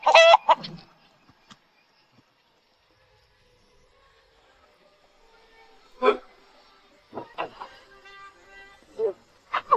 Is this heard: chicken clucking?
yes